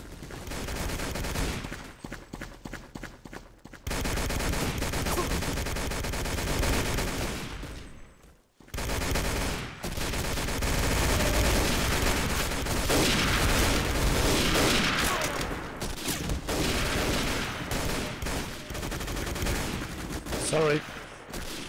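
Dense, continuous gunfire from Day of Defeat: Source on a train map, with rapid automatic bursts and loud shots filling nearly the whole stretch, broken by a couple of short pauses, with occasional voices underneath.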